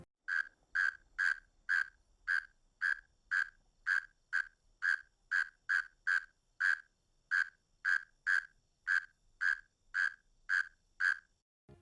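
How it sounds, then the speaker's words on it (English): A mole cricket's call: a steady series of about two dozen evenly spaced, tonal chirping pulses, clear and isolated against a quiet background. "mole crickets have a very unique call, which they use to attract mates"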